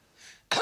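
A person on a comedy panel show mimics a boyfriend's cough: a soft breathy hiss builds, then one sharp, loud cough bursts out close to the mic at the end.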